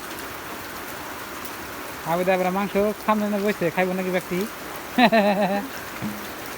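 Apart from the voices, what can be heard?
rain falling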